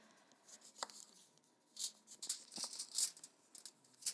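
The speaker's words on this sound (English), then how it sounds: "I feel like you can't have seafood without lemon, so we're gonna slice that up." A knife cuts through a lemon on a board in a run of quick, close taps and slices, irregular and fairly quiet, with no talking.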